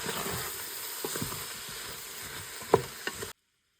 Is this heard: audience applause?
no